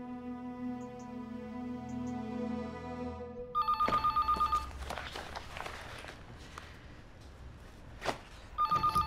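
A telephone bell rings indoors in short repeated bursts, fairly faint, after a low steady hum, with footsteps and a brief clatter between rings.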